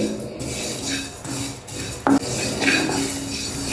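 Sesame seeds roasting on low heat for ragi laddus are stirred in a pan, giving close scraping and clinking utensil sounds with a few sharper knocks over a soft background hiss.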